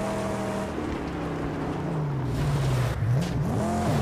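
Car engine revving in the Mad Max video game, a low droning motor whose pitch rises and wavers as the vehicle is cranked and pulls away, loud and close.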